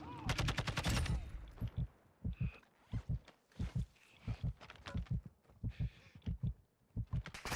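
Rapid bursts of automatic gunfire in Call of Duty DMZ, a loud dense burst at the start followed by shorter evenly spaced volleys, with faint talk in the background.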